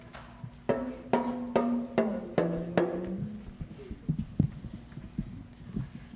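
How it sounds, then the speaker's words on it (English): A hand drum struck in a quick series of resonant beats whose pitch bends and slides, followed by softer, scattered taps. "Listen as I play different tones by squeezing the drum string."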